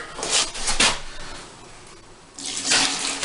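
Water poured into a bag of tile grout for mixing, heard as two short splashing bursts separated by a quiet pause.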